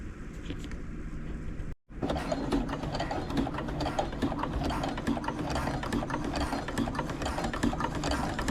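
A sewing machine fitted with a guide bar stitches fabric in a steady, continuous mechanical whir with rapid ticking, running close and loud after a brief pause near the start.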